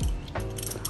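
Clamp of a GUB P30 phone holder being tightened on the mirror of a Honda Vario 160 scooter, a short, close, ratcheting mechanical click and grind lasting under a second.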